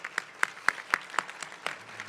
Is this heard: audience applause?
yes